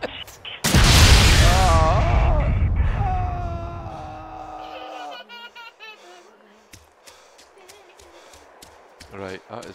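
A single heavy gunshot booms loud and close at a shooting range in Arma 2, then decays into a long rumbling tail, followed by quieter game sounds and voices talking.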